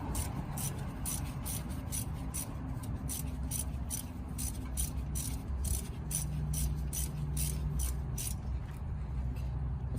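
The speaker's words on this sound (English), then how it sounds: "I think the ratcheting wrench will help make it's a bit easier." A ratcheting wrench snugs a bolt while reinstalling a front brake caliper and bracket, a rapid regular series of clicks over about ten seconds, close and clear with no talk.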